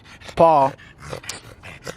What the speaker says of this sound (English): I chill with my dog